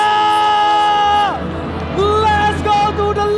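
An audience at an esports final of the MPL Mobile Legends Indonesia tournament in Jakarta cheers and whoops loudly, with a swelling crowd roar rising under a held musical tone that bends and changes partway through.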